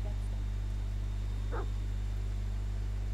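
A dog in the video game Pathfinder: Kingmaker gives a single short bark midway, fairly faint over a constant low electrical hum.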